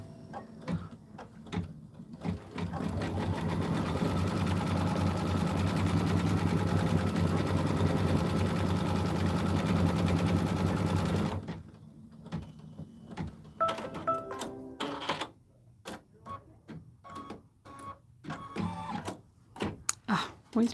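An embroidery machine stitches a tack-down line on quilt fabric for a beehive block, a steady mechanical whir lasting about eleven seconds, then stopping before someone talks over light handling noises.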